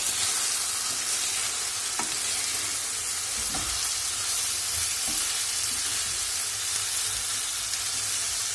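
Chicken for tantuni frying in a pan with a steady, close sizzle and hiss throughout, with occasional scraping clicks from stirring; no talking.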